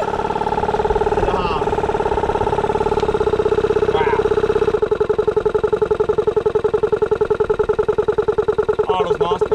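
Off-road vehicle engine, likely a turbo Barra Patrol or Mercedes X250d on sand dunes, running rough on two cylinders with a steady uneven idle-like drone under excited voices of nearby onlookers.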